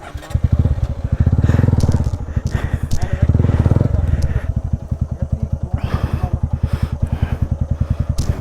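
An Apache RTR 200 motorcycle labours off-road through mud and stones, its engine a loud, close, steady pulsing thump that surges and eases, with crunching over rough ground.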